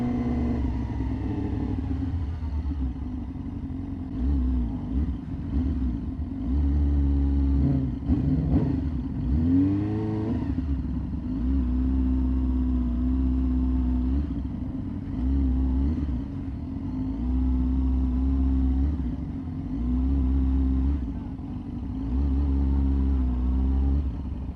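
Superbikes at a crowded bike night, including a Fireblade, Ducati V4, S1000RR, R1 and ZX10R, produce a deep, continuous idling rumble with repeated throttle blips and revving surges rising over it.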